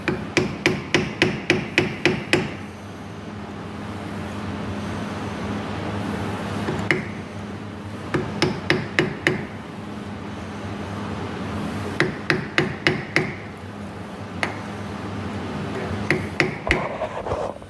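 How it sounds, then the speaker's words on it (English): Driveshaft keyway on an MG ZS being hammered with metal-on-metal blows in three quick rhythmic bursts of about eight strikes each, loud and close, with a few stray single knocks between bursts and no talking. "And the very last little job is to hammer this keyway."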